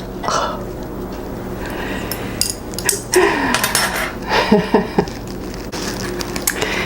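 A spoon stirs cilantro through hot black bean soup in a pot, giving close clinks and scrapes against the pot in an irregular rhythm, with low room noise underneath.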